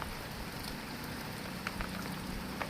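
Light, fine rain falls steadily with a soft, even patter in Devgad, Konkan, a few slightly louder drops standing out, no voices.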